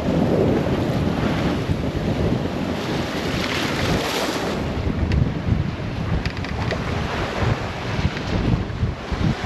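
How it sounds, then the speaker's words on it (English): Strong wind at sea on a sailboat, blowing 25 to 30 knots, with loud constant roaring buffeting against the microphone and rushing water, with no talk. "we have wind again, and it is wind with a vengeance. It's probably blowing 25 to 30 right now."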